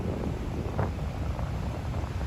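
Strong gusty wind buffets the microphone outdoors in Miami during a windy hurricane season, a steady low rumble with no clear voices.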